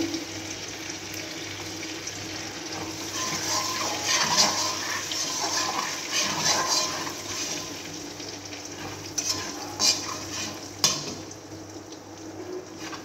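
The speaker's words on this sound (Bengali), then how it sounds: "দুটো শুকনো লঙ্কা দিয়ে দিচ্ছি ফোড়নে।" Dried red chillies crackle and sizzle in hot oil for a Bengali tempering, a steady bright frying hiss with small pops and spits, close and fairly loud, with no talking.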